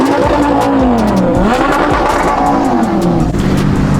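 Cars rev loudly and continuously at a street car meet in a Manchester car park, engines rising and falling in pitch close by, with no talking.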